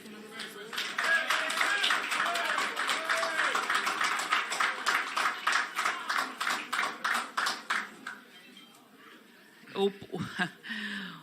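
Members of a parliamentary session applaud during a vote on banning same-sex marriage. Loud, steady clapping turns into sharper rhythmic claps and fades away around eight seconds, and voices and a few scattered sounds follow.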